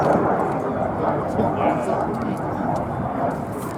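Hawker Siddeley Gnat jets roar past at the Duxford airshow, a loud broad rushing engine noise that swells slightly and fades, with a commentator's voice partly under it.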